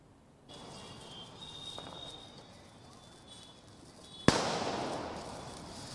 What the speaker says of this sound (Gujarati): કરોડો રૂપિયાનું દારૂખાનું ફટાકડા છે તે ફૂટવાના છે